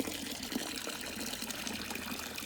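Hot water pours in a continuous, full gushing rush, a steady broadband splash filling a container for dyeing a dress, then stops abruptly at the end.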